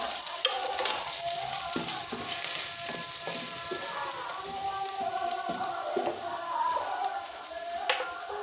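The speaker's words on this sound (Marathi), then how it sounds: "आता आपण लसूण टाकून घेऊ फोडणीसाठी" Garlic sizzles in hot oil in a kadhai for tempering, the pan already used for frying brinjal; a steady, close crackling fry with occasional stirring clinks throughout.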